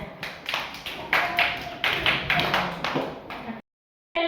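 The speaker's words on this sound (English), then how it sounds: "Clap them." A class of young children at a pre-primary school claps together in a steady, rhythmic run of beats, loud and close, before stopping abruptly into silence, then starting again briefly.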